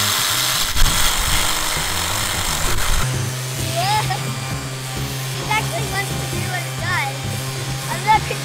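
A child's toy drill whirs with a steady buzzing hum that starts partway through, running continuously and close, with a voice speaking over it.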